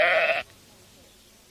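A sheep in a recorded nursery story gives a loud, close bleat lasting under half a second, followed by near silence and the start of another bleat at the end.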